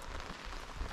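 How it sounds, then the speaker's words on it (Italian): Heavy rain falls on a medieval village in the Marche region of Italy as a dense, even hiss of drops hitting surfaces, steady and close for the whole second with no voices. "Qua al posto di smettere di piovere aumenta sempre di più."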